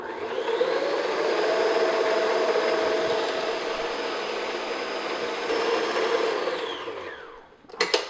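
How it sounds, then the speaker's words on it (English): An electric mixer beats yellow butter cake batter at medium-high speed, a steady whirring drone running close and loud for about seven seconds before it winds down and stops, followed by a few brief knocks. "now I'm going to beat it, like I said, medium-high speed, about 3 to 5 minutes"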